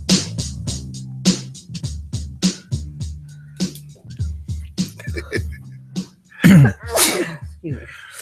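A single sharp sneeze bursts out near the end, loud and close, following stretches of rhythmic music with voices talking over it.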